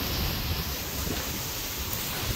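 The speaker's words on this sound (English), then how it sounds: "That's the wind." Hurricane Ian winds in North Port, Florida, roaring as a dense, steady broadband rush with gusty buffeting against the microphone, loud and unbroken throughout.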